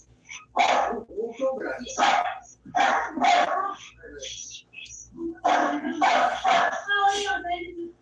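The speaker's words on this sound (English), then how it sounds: "Man, the dogs were going fucking crazy." Several dogs bark excitedly in repeated loud bursts, fairly close, and the barking keeps going throughout.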